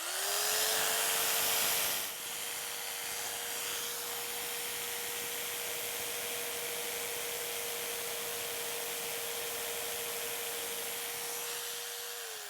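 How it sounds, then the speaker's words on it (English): A saber saw cuts a wooden chair back panel, a loud steady motor whine with a sustained rasping buzz that runs nearly unbroken, slightly harsher at the start and easing off at the end. "I'm using my saber saw and I'm just going to go ahead and cut out the bottom pattern of our back panel"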